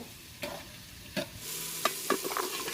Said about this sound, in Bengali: মাংসটা ভালো করে কষাই, দিয়ে দিল ডাল, মুগ ডাল, অঙ্কার ডাল, এটাও ভালো করে কষাইব।